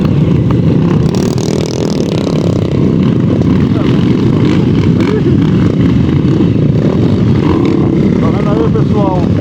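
Motorcycles on a motocross trail roar past, a loud continuous engine rumble with rising revs close by, while someone speaks over the noise.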